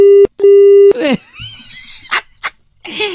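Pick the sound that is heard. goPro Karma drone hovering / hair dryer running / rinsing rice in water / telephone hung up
telephone hung up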